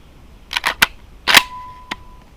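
Dry-fire trigger test on a Commando 8.6 Tornado shotgun: a few sharp mechanical clicks and clacks, close and isolated, with one brief ringing tone after a louder snap.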